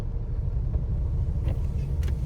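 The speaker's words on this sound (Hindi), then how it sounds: "ट्रैफिक जाम लग गया है और हम लोग फंस गए हैं अभी" A traffic jam of vehicles and dumper trucks fills the air with a steady, heavy low engine rumble and road drone that never lets up, heard from within the stalled traffic.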